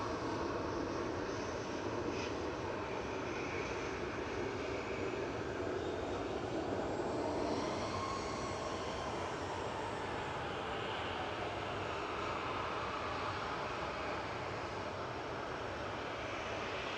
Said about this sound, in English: SAS just touching down there from Copenhagen, EIFPU with flight 541. It's a CRJ 900.